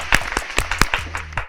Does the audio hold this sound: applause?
yes